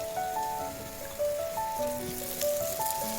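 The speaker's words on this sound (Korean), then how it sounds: "감자를 넣고 살짝 볶아줍니다. 양파를 넣고 볶고" Potatoes and onion being stir-fried in oil in a pan make a soft, crackling sizzle that runs steadily beneath louder background music with a plucked melody.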